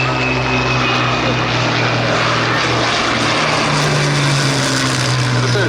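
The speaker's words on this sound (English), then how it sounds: "That's the Southern Spitfire, the one in the US Army Air Force's colours, the Mark 16E, back from another engagement." A Supermarine Spitfire Mark XVI in US Army Air Force colours flies past at the Duxford Battle of Britain air show, its piston propeller engine a loud, steady, throbbing drone throughout.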